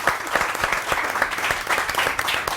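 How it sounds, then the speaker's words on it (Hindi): A studio audience breaks into steady, dense applause on a Pakistani morning television show, many hands clapping loudly and continuously without any voices on top. "मैं तुम्हारे लिए ख़ास तौर पे तालियां बजाना चाहता हूँ। बहुत सारी तालियां।"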